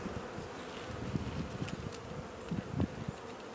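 Honey bees buzzing at a hive, a dense continuous hum with a few louder passes close by, no talk.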